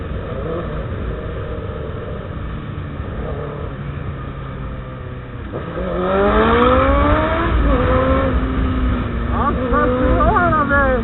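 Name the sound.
Chevrolet Camaro engine revving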